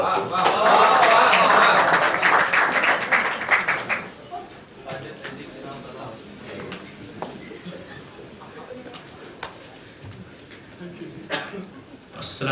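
Audience applause rising at a mushaira, an Urdu poetry gathering held at UIT, loud and dense for about four seconds before fading into scattered claps and room murmur.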